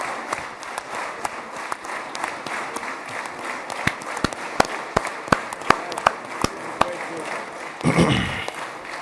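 A crowd at a live event in Israel bursts into sustained applause, a dense wash of clapping with sharp individual claps standing out, fairly close and continuous before a brief rush of noise near the end.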